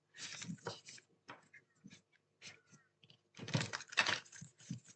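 Oracle cards are shuffled by hand in a quiet room, giving soft papery riffles and clicks in two brisk bursts with lighter taps between them.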